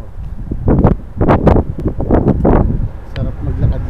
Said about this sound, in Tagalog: May hangin na naman. Mahangin na naman talaga